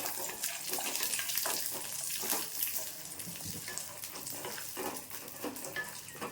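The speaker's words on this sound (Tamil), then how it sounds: "முந்திரி பருப்பு ஒரு 5, பாதாம் ஒரு 5 பொடியை நறுக்கி வச்சுருக்கேன்." Chopped cashews and almonds roast in ghee in a pan, giving a soft, continuous sizzle with faint scraping stirs, quiet and close with no talking.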